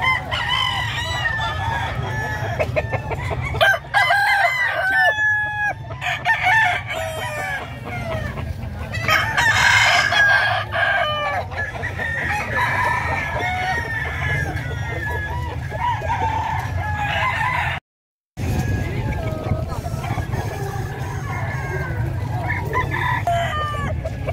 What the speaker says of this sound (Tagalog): Mga manok ni sir.